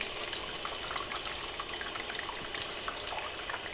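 Water running steadily on a wet tile saw cutting ceramic tile in a garage, a continuous close hiss and splash with no cutting blade noise, no voices.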